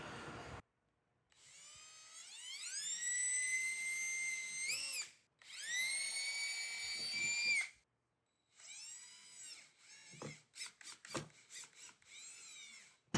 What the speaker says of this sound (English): I'm gonna pre-drill a couple holes to test to make sure my screws are going to go in the material